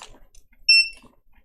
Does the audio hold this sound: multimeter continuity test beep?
yes